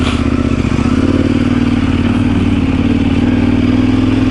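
A DR650 motorcycle climbs a big rocky uphill track near Mt Sugarloaf, its engine droning loud and close under a steady labouring throb, with faint clatter from the stones.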